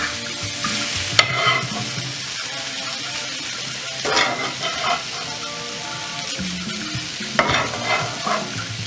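Meatballs and fried plantain are stirred in a pan with the heat switched off, giving a soft sizzle under three distinct scraping, clattering strokes of a utensil spaced a few seconds apart.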